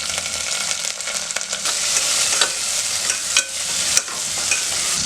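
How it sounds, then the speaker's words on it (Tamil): Chopped shallots sizzle steadily in hot oil, tempering for sambar, with a few sharp crackles and pops as the pan is stirred. Close and fairly loud, no voices. "இதில் ஒரு கைப்பிடி அளவுக்கு சின்ன வெங்காயத்தை நம்ம கட் பண்ணிட்டு போட்டுக்கலாம்."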